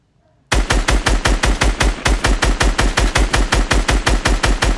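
A SCAR rifle in a video game's shooting gallery fires one sustained full-auto burst of about twenty-five evenly spaced, sharp, loud shots after a brief silence, with no talking.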